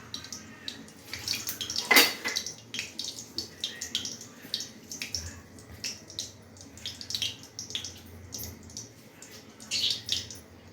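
Cooked takla leafy greens being squeezed to press out their water in a kitchen, giving soft wet squelches with light clinks of dishes and utensils, moderately close, with no talking.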